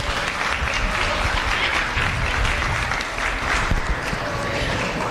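Steady, loud applause from the audience at a youth fair livestock show after a steer class, sustained clapping from a crowd filling the arena for several seconds.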